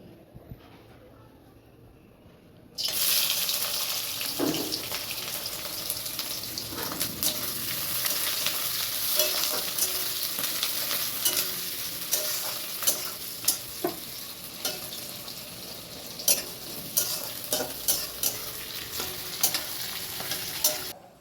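Red amaranth greens stir-fried in a hot wok (kadhai) in a home kitchen: after about three seconds of near quiet, a loud, steady sizzle begins and continues to the end, broken by scraping and clattering stirring strokes.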